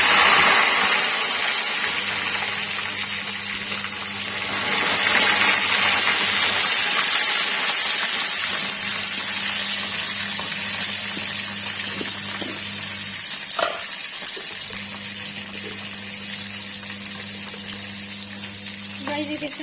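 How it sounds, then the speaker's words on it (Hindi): Sliced eggplant (baingan) frying in hot oil for a Kashmiri-style baingan tamatar sabzi, a steady broadband sizzle that runs the whole time, with a low hum underneath and a slight swell partway through. "तेल में मैं पहले बैगन फ्राई करूँगी"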